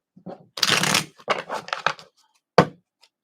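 Tarot cards are shuffled close up in several quick riffling bursts, ending with one sharp snap as the deck settles.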